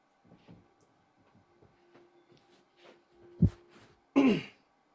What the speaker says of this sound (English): I had to clear my throat there for a second.